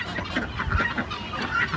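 Fowl clucking on a farm where ducks roam, a steady run of short close calls across the whole stretch with no talk.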